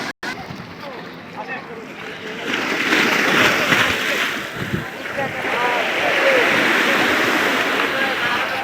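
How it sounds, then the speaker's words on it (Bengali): Sea waves roll and crash at Patenga beach as a broad, continuous roar that swells midway, with wind rumble and people talking close by. "সেই ঢেউটা দেখেন, হ্যাঁ ঢেউ বাড়ি মারতেছে।"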